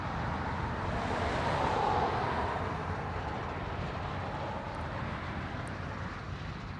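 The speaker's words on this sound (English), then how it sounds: "It's a Dreamliner 9 coming in from Tokyo." A Japan Airlines Boeing 787-9 Dreamliner arrives at Honolulu from Tokyo. Its soft, distant jet rumble swells slightly early on, then fades to a steady low wash.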